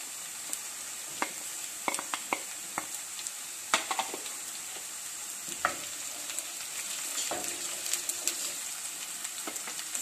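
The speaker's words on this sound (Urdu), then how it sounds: "پیاز سوتے ہو چکے ہیں ہمارے، ہم اب اس میں ادرک اور لہسن شامل کر دیں گے" Onions sizzle steadily in a hot pan for turnip bhujia while ginger and garlic are added and stirred, with scattered spoon clicks and scrapes over a constant frying hiss and no talking.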